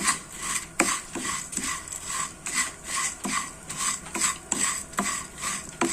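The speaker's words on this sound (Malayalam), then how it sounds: "സേമിയയും കുറച്ച് നെയ്യും കണ്ടോ ഇത് നമുക്ക് മിക്സ് ചെയ്തൊന്ന് വറുത്തെടുക്കാം" Dry vermicelli being stirred with ghee in a pan, with a repeated scraping and rasping of a spoon against the pan in a steady rhythm, close and moderately loud, with no voices.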